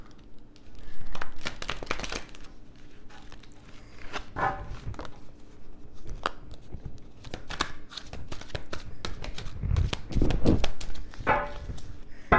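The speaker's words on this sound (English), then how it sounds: "Let me shuffle one more time." Tarot cards are shuffled by hand in a quiet room: irregular papery riffles and soft slaps come in short bursts with pauses between them, close and moderately loud.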